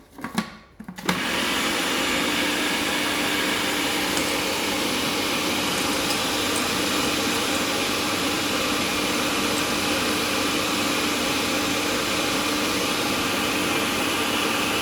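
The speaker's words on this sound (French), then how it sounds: "Vous rabattez bien et vous continuez à mixer." A home food processor runs steadily while mixing hazelnut spread ingredients, a loud continuous whirring motor drone that kicks in after a brief start and holds without pause.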